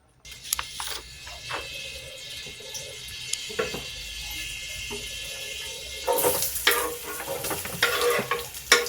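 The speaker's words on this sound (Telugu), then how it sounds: "మీడియం ఫ్లేమ్లో పెట్టి ఈ ఆనియన్స్ని గోల్డెన్ బ్రౌన్ కలర్ వచ్చే వరకు హీట్ చేయాలి." Thinly chopped onions fry in hot oil in a kadai over a medium flame, a soft constant sizzle with occasional stirring clatters that grow busier and louder toward the end.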